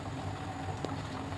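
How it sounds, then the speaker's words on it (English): Dal simmers at a rolling boil in a cooking pot, giving off a steady, dense bubbling hiss with no talking. "Once the dal is boiling nicely, gently add the dhokli pieces one by one."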